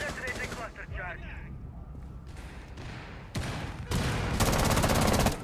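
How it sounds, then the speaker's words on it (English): A cluster charge detonates in the Rainbow Six video game, a rapid string of close, loud blasts and cracks building into a dense, sustained burst of explosions, with voices heard faintly around the start. "Placing cluster charge! Detonating cluster charge!"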